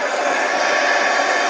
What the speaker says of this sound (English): I need to spend some time with this heat gun.